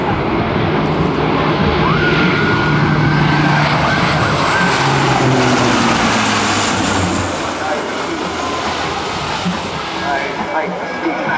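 A Lockheed C-130J-30 Hercules with four Rolls-Royce turboprops flying a steep minimum-radius turn at an air show, a loud, continuous propeller roar and engine drone that shifts in pitch as it banks, with an announcer talking over it.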